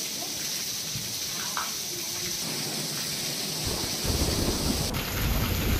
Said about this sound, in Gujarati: સાબરકાંઠામાં રાત્રે ગાજવીજ સાથે ધોધમાર વરસાદ વરસ્યો